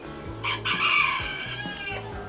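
A rooster crows once, fairly close and clear, its drawn-out call rising and falling over a low background hum.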